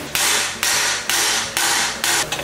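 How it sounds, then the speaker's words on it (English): A 1965 Mustang exhaust header being hammered into place: five loud, sharp metallic blows at a steady, roughly half-second rhythm, close to the microphone, with no talking. "after some more hammering on that second header too, I got this thing slid into place"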